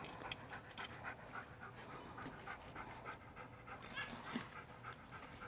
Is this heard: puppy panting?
yes